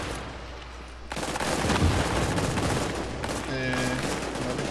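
Gunfire in the video game The Division during a challenge mission at the Lexington Events Center, loud, dense bursts that roll on without a break.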